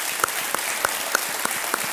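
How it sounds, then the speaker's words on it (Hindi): Steady applause from a TV game show studio audience on Kaun Banega Crorepati, a dense wash of clapping with a few sharper individual claps standing out, continuous throughout. "बहुत बहुत शुभकामनाएं आपको अनुराधा जी, और एक बार फिर तालियों के साथ हम आपका स्वागत करते हैं।"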